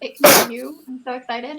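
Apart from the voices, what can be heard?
sneeze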